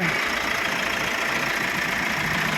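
A Mitsubishi Pajero Sport 2.4 GT 4WD engine runs at a steady idle close by, an even continuous hum with a fine rattling texture and no talking.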